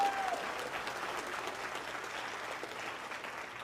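An audience applauds steadily, a dense, even wash of clapping that holds at a fairly constant level from start to finish, with little distinct cheering over it.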